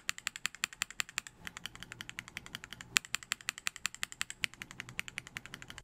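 Keystrokes on Gateron North Pole V2 mechanical keyboard switches, a quick comparison sound test: crisp, evenly paced clacks struck one after another, close and clear with no talking.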